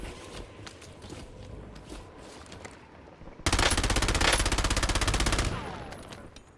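Gunfire in the video game Warzone: a sudden loud burst of rapid automatic fire lasting about two seconds, following a stretch of quieter game ambience and movement sounds, with no voices.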